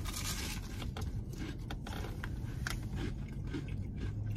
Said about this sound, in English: All that crunch.